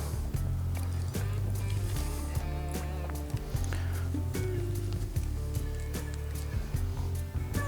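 Water drips slowly through a homemade filter, sounding as scattered sharp little taps at irregular intervals over a constant low background hum.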